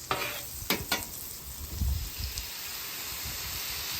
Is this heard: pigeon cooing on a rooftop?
no